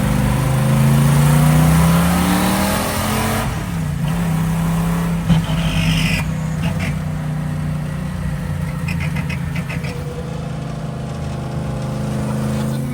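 Roadkill's Rotsun project car running a newly installed engine drives along, its steady mid-pitched engine drone and exhaust rumble loud and continuous throughout, with slight throttle changes midway.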